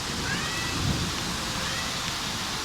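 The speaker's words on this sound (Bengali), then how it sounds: "দূর থেকে আজকে বৃষ্টি হচ্ছে" Rain falls steadily in a soft, even wash, with a faint high-pitched cat cry briefly near the start.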